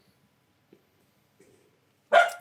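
A short burst of dog barking near the end, close and fairly loud, after near silence with faint background noises.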